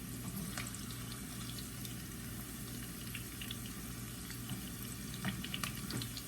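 Bacon egg rolls frying in a pan just after being flipped, a steady soft sizzle with faint crackles and pops running continuously, fairly quiet and with no talking.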